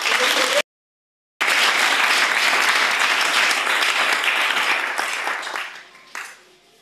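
A church congregation applauding for the Lord, loud and close, with a brief cut of silence early on, then sustained clapping that fades out near the end before a short final burst.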